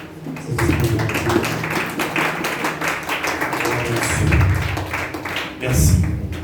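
Applause from a church congregation, a steady wash of many hands clapping across the whole stretch, fairly close and full, with low voices and shouts rising under it near the middle and end.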